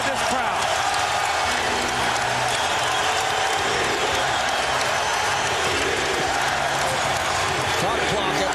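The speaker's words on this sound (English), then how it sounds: "listen to this crowd" Packed basketball arena during the 2001 NBA Finals between the Lakers and the 76ers in Philadelphia, a loud continuous crowd roar of cheering that stays dense and steady, with an announcer's voice over it.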